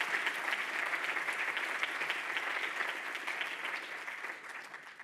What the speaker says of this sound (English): how about a hand of applause for these grant getters?